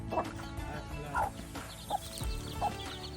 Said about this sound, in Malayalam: അത് കോഴിക്കുട്ടികൾ.